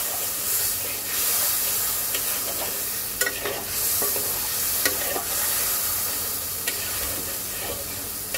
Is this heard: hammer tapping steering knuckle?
no